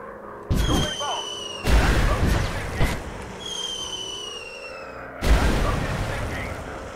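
Repeated booming bomb blasts from a WW1 fighter plane in the video game Warplanes, three heavy broadband hits spaced a second or so apart over a steady engine drone, each decaying into a rumbling tail.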